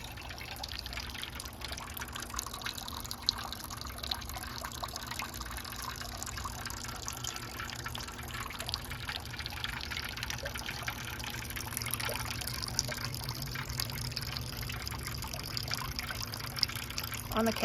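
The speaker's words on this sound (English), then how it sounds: "On the camera, it looks like it's actually dripping, but it is a steady stream." A garden water feature built from rusty metal, its steady stream trickling and splashing continuously at close range, a soft even wash of water with faint drips throughout and no clear voices.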